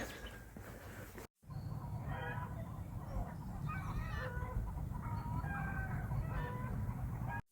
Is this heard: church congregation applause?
no